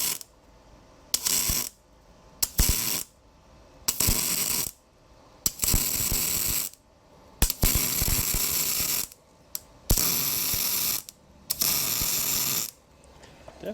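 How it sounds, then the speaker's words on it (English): Welding beside an exhaust manifold produces repeated bursts of harsh crackling buzz, each lasting about a second with short quiet gaps between, close and loud. "So we'll just weld beside it and see what happens."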